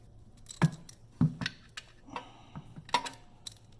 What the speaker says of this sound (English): take our handy dandy socket wrench